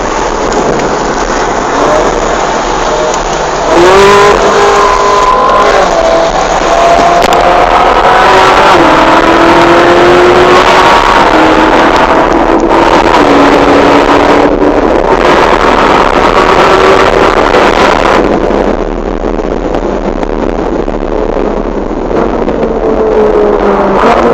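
A Ferrari 458 Italia accelerates hard on the road, its engine note climbing through repeated rising sweeps between gear changes under loud, steady wind and road roar.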